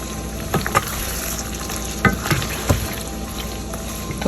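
Continuous sizzling and crackling of meat frying in a pot for phiphra boti, with occasional louder stirring scrapes and clinks over the hiss.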